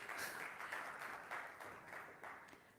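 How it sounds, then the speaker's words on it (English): Audience applause in a conference hall at an investor roadshow, a steady patter of many hands clapping that swells in waves, moderately distant and without speech over it. "Give Mr. Fatih Al-Blushi a round of applause,"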